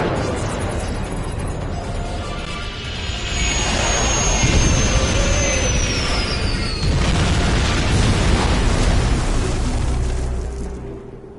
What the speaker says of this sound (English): Get us on the ground, Commander. Crash position. Ready for impact.